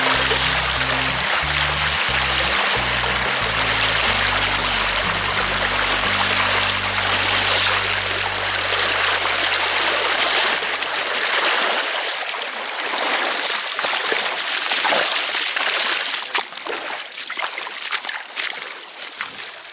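Powerful outgoing tide rushing and roaring along a shore in stormy weather, a loud steady wash of water with a low engine-like drone fading out midway; no talking.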